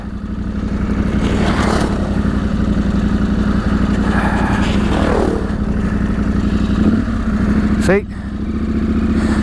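Several motorcycles ride along a gravel reservoir trail, a continuous close engine drone with rising revs and rough clatter, while someone talks over it.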